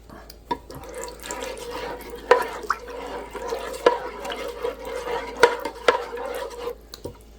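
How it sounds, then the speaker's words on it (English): A spoon stirs honey into sauce for orange chicken in a bowl, giving soft, steady scraping and clinking with sharper taps now and then, close and moderately loud with a faint hum beneath. "Go ahead and stir that up."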